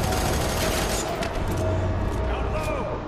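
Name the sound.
gunfire in video game F.E.A.R. 3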